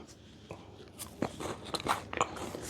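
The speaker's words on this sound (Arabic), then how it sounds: "كيت كات لون أبيض عادي. خلينا نكسر واحدة ونشوفها من داخل" A white chocolate KitKat bar snapped apart close up, rustling wrapper and several small crisp cracks and crunches bunched toward the end, quiet with no voices.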